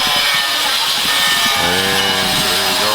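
A power saw cuts tiles at a shed construction site where steel is also being worked, a harsh continuous grinding whine close by that settles into a steadier tonal buzz partway through.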